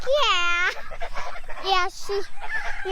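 Baby farm birds chatter close by in a string of high, wavering peeps and honking calls, several overlapping in quick succession, with a voice talking among them.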